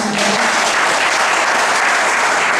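Steady, loud audience applause on a community television programme, a dense wash of clapping sustained throughout with no one talking over it.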